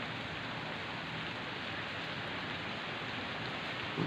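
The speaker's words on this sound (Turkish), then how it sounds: "Şimdi sakin yağıyor." Steady, even rainfall hisses without a break, a soft continuous patter with no thunder or voices.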